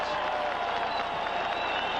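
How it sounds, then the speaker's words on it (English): Large football stadium crowd at a 1981 Bears versus San Diego game roars and applauds in a dense, continuous wash of clapping and cheering, loud and steady with no break. "the crowd reacts"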